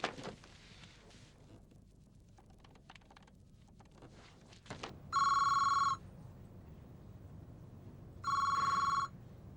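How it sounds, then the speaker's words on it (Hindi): A telephone rings in two loud electronic bursts separated by a pause, following a stretch of quieter tapping and shuffling noise. "Oh, come on, pick up the phone."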